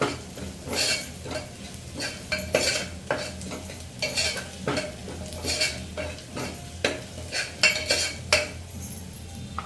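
Sweet corn rice seasoned with black pepper and oregano being stirred in a pan, a soft background sizzle under steady rhythmic scrapes and light clinks of a spoon against metal, close and without speech.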